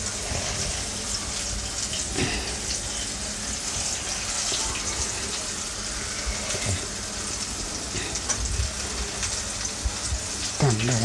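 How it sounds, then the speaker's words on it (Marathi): Flour-coated chicken legs fry in hot oil with a loud, continuous close sizzle and crackle, broken by occasional knocks and stirring sounds. "हे करूया, फ्राय करूया. तेल पण गरम झालं आहे."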